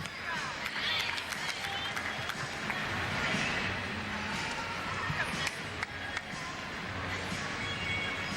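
A gymnastics arena crowd at a 2004 NCAA women's meet, Florida at Alabama, keeps up steady applause and cheering with scattered sharp claps, a broad wash of noise heard under a commentator's voice.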